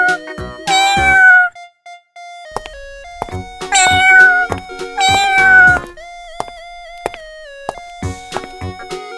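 A cartoon cat meows repeatedly in bright, sliding tonal calls, several drawn-out mews clustered early and mid-way and separated by short plucky musical notes and pauses, loud and close with no talking.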